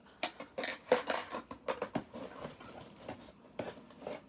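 Metal chopsticks and a spoon from a small bento box set clink and rattle against each other and the box in a quick, uneven series of close, bright metallic taps, with no voices.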